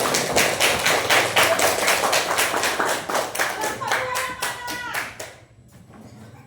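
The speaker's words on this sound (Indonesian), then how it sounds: "100, tepuk tangan" A classroom of children claps hands in a fast, steady rhythm, loud and near, before the clapping stops abruptly and a voice speaks briefly over a quieter room.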